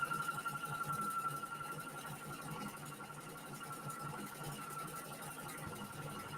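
A sewing machine stitches fabric using a join and fold foot, giving a quiet, steady mechanical whir with a faint rapid rhythmic chatter throughout, heard alone without talk.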